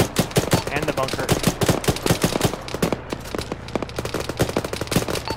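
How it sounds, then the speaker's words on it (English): Heavy gunfire comes from a hill and a bunker in the military shooter ArmA, with dense rapid bursts and overlapping shots, loud and continuous, mixed with faint voices. "We're taking fire from the hill north. And the bunker."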